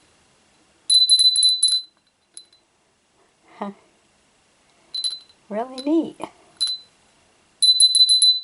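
A small black bell with a fish design rings in three bright, rapid bursts of metallic ringing, near and fairly loud, separated by silences; a person speaks briefly between the first two bursts.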